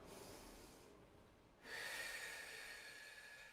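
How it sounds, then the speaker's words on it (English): A deep, audible inhalation during a singing warm-up, a breathy rush that swells after a brief near-silent pause and then holds steady, close and fairly soft. "Big deep breaths in, down into the belly."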